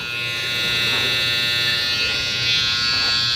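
A TPOB X Deluxe electric shaver runs continuously nearby, giving off a steady high-pitched motor buzz with a slight wavering in level.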